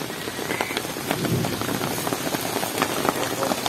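Heavy rain pours steadily at an outdoor wedding venue with light displays, a dense continuous hiss of drops pattering on surfaces, close and unbroken, with no voices.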